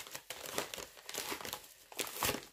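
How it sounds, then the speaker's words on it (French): A paper envelope is torn open and its contents handled, giving soft, close crinkling and tearing in short irregular bursts, fairly quiet with no talking. "je retire ceci et j'ouvre l'enveloppe"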